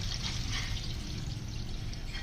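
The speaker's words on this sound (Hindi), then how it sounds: "इसी तरह हम इसके अंदर पानी डाल देंगे।" Water pours steadily into a bowl of raw chicken, a continuous soft splashing gush that stays quiet and even throughout, with no voices.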